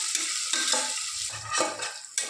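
Sliced onion and a green chili frying in a pan, stirred in short repeated scrapes over a continuous close sizzle.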